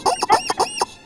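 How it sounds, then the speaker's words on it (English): A squeezed rubber chicken toy squawks in a quick run of five or six sharp, honking bursts, loud and close, with no talking. "every time you squeeze that chicken"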